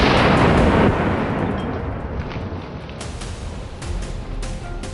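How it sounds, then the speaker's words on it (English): A single rifle shot fired at a charging wild boar, a loud sharp blast that booms and rolls away into a fading outdoor echo. "That's when Caleb pulled the trigger."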